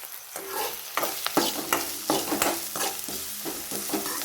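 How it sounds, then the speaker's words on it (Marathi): Onion with turmeric frying in a pan while being stirred, a steady close sizzle broken by repeated scraping strokes of the spoon against the pan, with no voices. "थोडस त्याला फ्राय करूया हळदीने कांद्याला रंग छान येतो"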